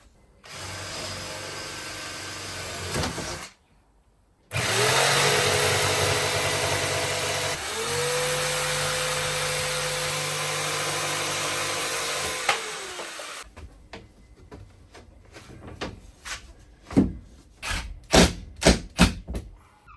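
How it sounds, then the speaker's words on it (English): A jigsaw cuts a hole through plywood lining, running as a loud steady buzzing drone for roughly nine seconds after a short burst and pause, then stopping and giving way to scattered knocks and clatter. "I'm just going to put a hole in it so I can fit the jigsaw in and then just cut out straight round"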